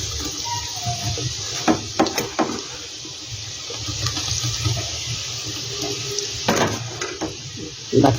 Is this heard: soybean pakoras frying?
yes